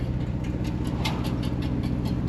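A 1983 Opel turbo coupe's engine idles steadily and close by after 20 years unstarted, its low rumble running on a slightly uneven rhythm from a misfiring cylinder.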